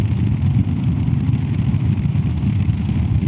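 A Royal Enfield Classic 350 motorcycle fitted with a FuelX Lite and DNA air filter accelerates in fifth gear from 60 km/h, giving a loud, steady, close-up low engine rumble throughout with no pauses.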